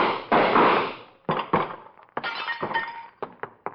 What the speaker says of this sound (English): How's that for shooting, Sam?